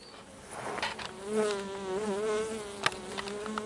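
Honey bees streaming in and out of a hive entrance, a close, loud buzzing drone with wavering pitch as individual bees pass near, plus brief ticks of contact, with no talking.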